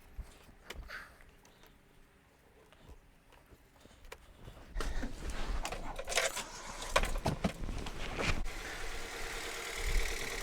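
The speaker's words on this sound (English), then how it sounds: "And we're going to see if the engine stays running." A Toyota engine idles with a low, steady hum; scattered clanks and knocks join in from about halfway through.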